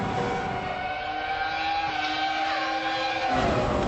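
A race car brakes hard and downshifts, its loud, close engine howling with shifting tones that fall in pitch before the note drops away near the end, with no talking.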